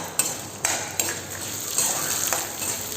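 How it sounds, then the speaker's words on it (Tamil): Lentils, red chilies, ginger and garlic sauté in a pan with a soft, faint sizzle and several light stirring scrapes and clicks of a utensil against the pan. "இப்போ இந்த பருப்புகள்லாம் பார்த்திங்கன்னா நல்லா ப்ரௌன் கலருக்கு வரும், அது வரைக்கும் வதக்கலாம்."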